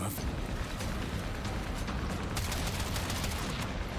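Dense gunfire with heavy recoil from a weapon in the sci-fi shooter Warframe, a continuous rumbling barrage of rapid blasts filling the whole stretch at a steady loud level.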